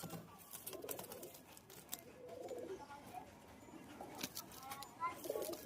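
Pigeons coo softly in short, repeated low calls, faint and fairly close, over a rustling background with scattered brief noises.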